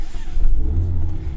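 A 2021 Mazda MX-5 Miata RF with manual transmission pulls away, its engine giving a brief, steady low rumble that swells slightly as it moves off.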